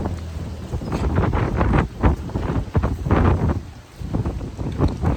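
Strong, cold outdoor wind in the US buffets the microphone in heavy, uneven gusts, with a loud rumbling roar that surges and dips throughout.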